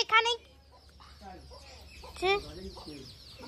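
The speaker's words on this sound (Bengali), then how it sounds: "এখানে 3 বয়সের মোরগ।" A three-year-old rooster clucks up close in short harmonic calls, one at the start and another about two seconds later, over a low background hum with softer bird sounds between.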